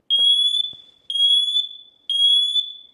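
A combination smoke and carbon monoxide alarm sounds three loud, piercing electronic beeps, each about half a second long and evenly spaced about a second apart, close by with faint clicks in between.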